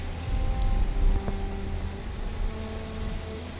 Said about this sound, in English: Coming in rainy, as always, I suppose.